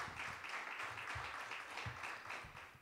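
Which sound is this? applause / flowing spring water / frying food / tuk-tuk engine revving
applause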